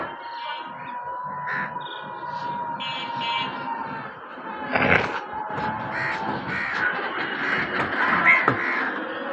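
Crows caw repeatedly at varying distances around a rooftop where they are fed, some calls loud and near, others fainter, over steady outdoor background noise.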